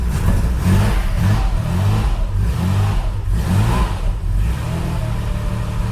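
An engine turns over and runs unevenly, its rhythmic low chugging loud and close throughout, with surges like light revving.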